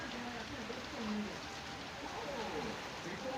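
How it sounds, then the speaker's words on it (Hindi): Steady wash of rain hissing down as a windy storm begins, with a bird cooing faintly through it and a voice murmuring in the background. "बारिश भी स्टार्ट हो गया हवे एकदम।"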